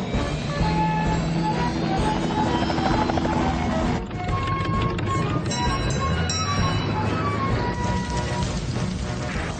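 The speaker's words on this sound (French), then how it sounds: "On va avoir besoin de Tom Thomas et de son hélicoptère" A cartoon-style helicopter drone with a whirring rotor, loud and continuous, mixed with music-like tones, from the Fireman Sam cartoon.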